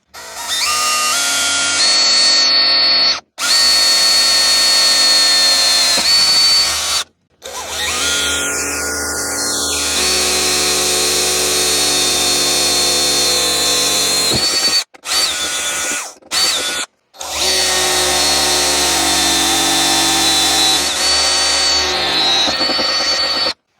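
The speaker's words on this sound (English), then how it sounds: "Now we have the fun part of drilling" A loud power drill whines continuously in several long bursts, drilling holes in the body of a Ubiquiti network switch, stopping briefly between holes, close by with no talking.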